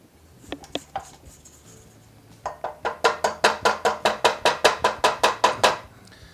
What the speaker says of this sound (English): I'm just going to go ahead and scrape down the sides of my bowl with the spatula here.